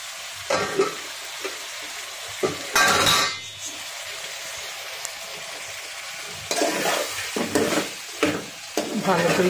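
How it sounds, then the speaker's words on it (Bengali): Beef stir-frying for tehari in a pot, a loud sizzle under repeated scraping and clinking of a utensil against the metal, close up and in bursts, with no one speaking. "ভালো করে কষাচ্ছি মাংসটাকে।"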